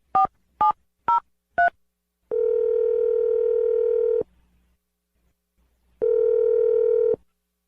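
A telephone dials a number as four short, evenly spaced touch-tone beeps, followed by two long steady ring tones separated by a pause, clear and close with no talking.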